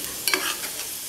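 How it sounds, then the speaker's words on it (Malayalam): Short burst of sizzling and stirring as cashews and raisins fry in ghee, a soft continuous hiss with a couple of light scrapes, close and brief. "അണ്ടിപ്പരിപ്പും മുന്തിരിങ്ങയും വറുത്ത് മാറ്റി വയ്ക്കുക"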